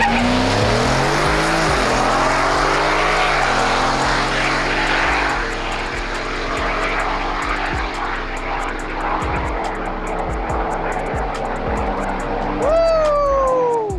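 A supercharged 2021 Ford F150 four-door pickup running down the drag strip at Palm Beach International Raceway, its loud engine climbing through several gear changes with rising pitch sweeps, then a high whine near the end.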